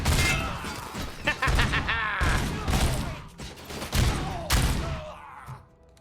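Gunfire from a weapon in the RoboCop video game: several bursts of sharp shots and impacts with crashing debris, loud and close, separated by short gaps and fading out at the end.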